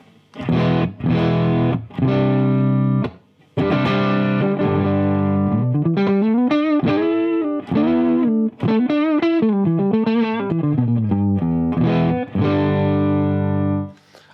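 An electric guitar plays through the clean channel of a Peavey 6505 MH mini head into a Marshall cab, with sustained chords, then a bending melodic line, loud and close, with the tone breaking up slightly.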